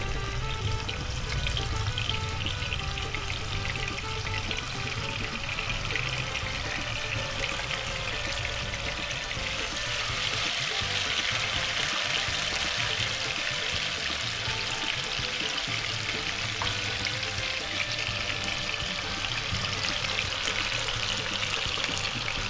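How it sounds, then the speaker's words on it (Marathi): Pieces of giant grouper fish frying in hot oil, a continuous low hiss and soft bubbling that holds steady at a faint, even level for a long stretch, with no voices. "तेल गरम झालेलं आहे आणि एकरूचे आपण आता पीस फ्राय करणार आहोत"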